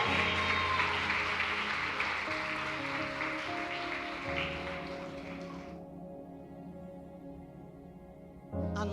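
Church congregation applauding during an evangelist's service, a dense wash of clapping that slowly thins and stops, with sustained music tones carrying underneath and continuing after the clapping ends.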